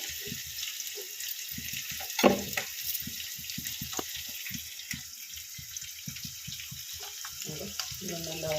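Chopped onions frying in a pan for okra curry, giving a faint, steady sizzle and hiss with scattered small crackles and a few soft clinks, no talking over it.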